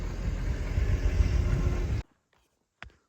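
A small farm tractor with a loader runs steadily, its engine a close, rumbling drone for about two seconds before cutting off abruptly, followed by near silence and one brief knock.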